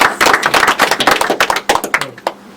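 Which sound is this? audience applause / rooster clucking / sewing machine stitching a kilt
audience applause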